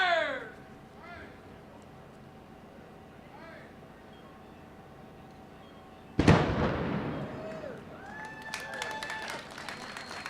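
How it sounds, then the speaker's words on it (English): A ceremonial anvil battery fires a salute at a civic opening in downtown New Westminster, British Columbia: one sharp, loud blast rings out after a quieter stretch of crowd murmur, then echoes and fades into outdoor ambience. "the battery is pleased to fire in honor of the city of New Westminster"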